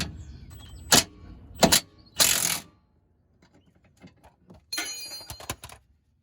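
An impact gun loosens a rear suspension bolt on a Dodge Charger R/T 5.7, firing in several short, sharp hammering bursts separated by brief quiet gaps, close and loud.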